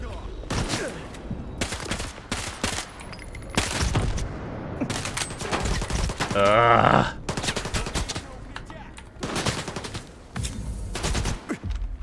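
Bursts of automatic machine gun fire from the video game STALKER 2, fired with an expanded magazine, come as repeated loud rapid volleys across the span with short gaps, alongside other in-game noises.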